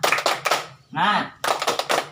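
A group of women claps a rhythmic cheer pattern in quick bursts, with a short chanted shout from the group between the clapping phrases, close and loud in an indoor training session.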